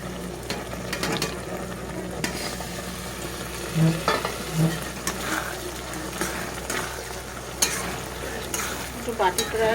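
Chili sauce added to fried vegetables in a pan for homemade chili chicken: a steady close sizzle broken by scraping stirring strokes and light clinks, with no talking.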